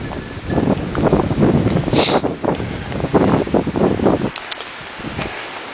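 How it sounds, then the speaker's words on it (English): Strong wind buffets a microphone outdoors at a cemetery during Memorial Day flag placing, a loud continuous rush and rumble that drops off abruptly near the end. "Boy, the wind, the wind, the wind."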